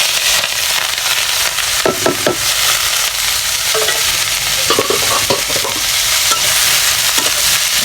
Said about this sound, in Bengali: এখন আমি ভাজি করার জন্য কড়াইতে তেল দিয়ে দিচ্ছি